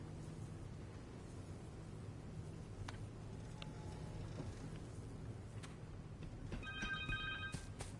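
A cell phone rings in Marvel's Spider-Man 2, a short electronic ring with harmonic tones near the end, heard over a steady low game ambience and music bed.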